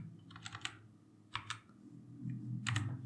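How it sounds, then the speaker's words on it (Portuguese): A computer keyboard is typed on close up in short bursts of rapid key clicks separated by brief pauses, with a low hum underneath and no talking. "vou digitar o nome dele aqui"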